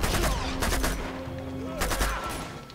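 Gunfire and combat clatter in Uncharted 2 as a grenade is thrown, loud sharp bursts at the start and again near the end over a tonal hum, with a voice murmuring underneath.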